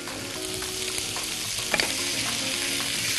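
Calamari frying in a pan with vegetables for a seafood tagine gives a loud, steady sizzle, with a brief clatter partway through as it is stirred, and no voices.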